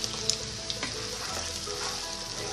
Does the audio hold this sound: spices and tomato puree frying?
yes